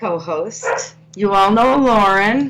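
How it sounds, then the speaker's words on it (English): A small dog barks and yips in a studio during a live-stream talk show, with short, higher-pitched bursts close by. Two people talk at the same time. "if you hear a little poochie in the background"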